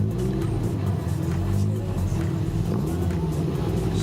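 Volkswagen drag race car creeping into the staging beams at the start line during Bug Jam 2013, its engine idling and burbling steadily at close range with a constant low rumble.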